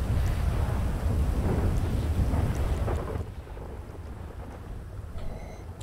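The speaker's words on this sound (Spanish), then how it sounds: "Y llueve" Game-world storm in a GTA roleplay session: heavy rain with low thundery rumble fills the first half loudly, then drops to a softer steady downpour, with no voices over it.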